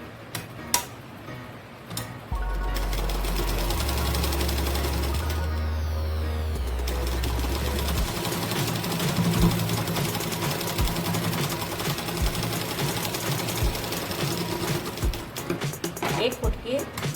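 A sewing machine runs along the folded edge of blouse fabric in a steady, fast ticking stitch that stays close and continuous, with a person talking over it.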